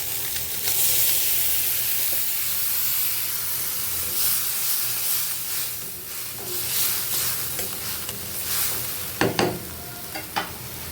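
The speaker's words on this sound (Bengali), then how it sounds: "এখন আমি এর মধ্যে সামান্য পানি দিয়ে দিব।" Ginger garlic paste sizzling and hissing loudly in a hot pan after a little water is added, with steady frying noise and a few sharper spits near the end.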